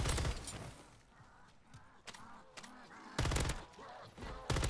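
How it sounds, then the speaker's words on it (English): Rapid bursts of automatic gunfire from the Call of Duty: Modern Warfare III Zombies mode cut in loudly at the start and again near the end, with a lighter stretch of in-game noise and scattered shots in between. "I proceed to just shoot the zombies around me"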